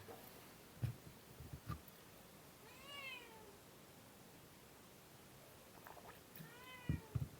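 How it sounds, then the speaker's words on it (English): A talkative cat meows twice, a rising-falling call near the middle and another toward the end, faint and a little distant against quiet background with a few soft knocks. "There's a beautiful cat."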